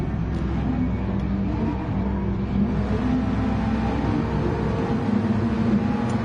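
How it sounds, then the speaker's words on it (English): Race car engines rev steadily on the grid before a start in a racing sim on the seaside Dragon Trail track, a constant loud droning hum of several cars holding rising revs. "Waiting for the lights, revs are rising"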